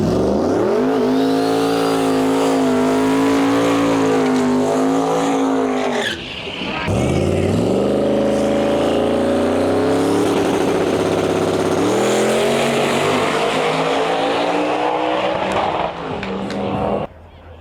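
A no prep drag race car makes a bypass run at Central Alberta Raceway, its engine roaring loud and close, revving and rising in pitch through the gears, breaking off briefly mid-run before surging again, with tire squeal and a crowd under it.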